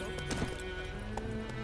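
Roach, the horse in The Witcher 3, clip-clops along at a run, with steady hoofbeats heard faintly beneath a continuous game soundtrack.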